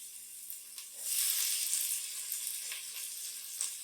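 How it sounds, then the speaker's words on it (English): Onions and peppers hitting a hot pan and sizzling as they saute, a steady bright hiss that swells loudly and holds, with faint stirring taps, close up. "So the first thing we're going to add to this dish are the onions, our peppers,"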